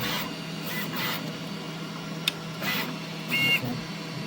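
A Snapmaker U1 3D printer's motors whir and shift in short mechanical bursts as the print head changes, with a sharp click midway and a brief electronic beep near the end.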